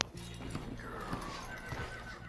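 Horse whinnies in the Red Dead Redemption 2 video game while being hitched, a drawn-out neigh with a few clip-clop hoof knocks over a steady background bed, fairly quiet.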